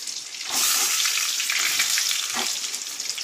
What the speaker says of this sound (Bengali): আলুটা আমি একটুখানি এই তেলের মধ্যে একটু নাড়াচাড়া করেই উঠিয়ে নেব